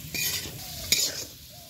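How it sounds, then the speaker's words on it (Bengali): Potato pieces frying in oil until golden, a soft continuous sizzle with a couple of spoon-stirring scrapes in the pan, near and moderately quiet, no talking. "দেখো আলুটা একটু সুন্দর করে কালার করে ভেজে নিয়েছি"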